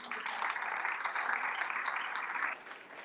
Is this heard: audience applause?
yes